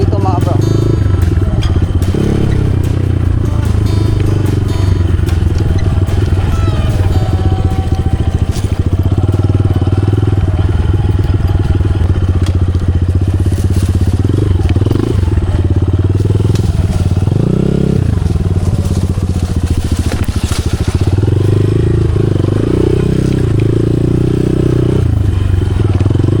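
A motorcycle engine rumbles loud and close at a steady idle near a river campsite, with clatter and scraping on top and voices talking over it.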